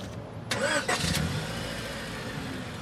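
A car engine starts close by with a brief cranking whir, then catches and settles into a steady low idle.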